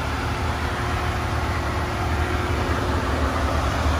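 A 2010 Chevy Camaro idles steadily under the open hood, giving a continuous loud, low rumble with a broad hiss and no change in pace.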